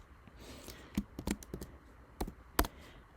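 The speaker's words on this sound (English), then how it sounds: "start typing" Scattered keystrokes on a computer keyboard while working in Photoshop's type tool, a handful of uneven clicks, some sharper than others, close and quiet with no talking.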